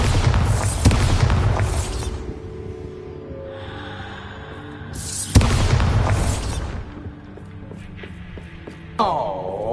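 Bombarda spell blasts in the video game Hogwarts Legacy hit as two loud booming explosions with rumbling tails, followed by a lighter magical burst near the end, with quieter game sounds in between.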